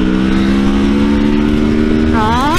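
A Kawasaki Versys 650 motorcycle engine pulls hard on the road, a loud steady drone whose pitch climbs sharply near the end as the revs rise.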